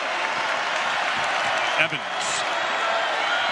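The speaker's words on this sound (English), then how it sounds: "Wildcat crowd very appreciative of their defensive team." College basketball arena crowd at a Vanderbilt versus Kansas State game applauding its defense, a broad wash of clapping and cheering beneath a play-by-play announcer's voice, with a brief thump midway.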